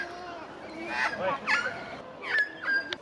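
An Australian magpie gives its danger call: four harsh, honking squawks with rising and falling tones, spaced about half a second apart and heard up close.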